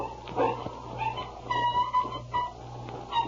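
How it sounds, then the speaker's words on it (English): A dog in the snowy Yukon, caught in a trap, yelps and barks in several short, urgent bursts over a low, steady hum in an old radio drama sound effect. "It's a dog. Sounds like he's in trouble."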